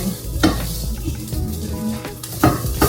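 Fried rice sizzles in a pan while a utensil stirs and scrapes it, with a few louder clanks against the metal over a steady frying hiss.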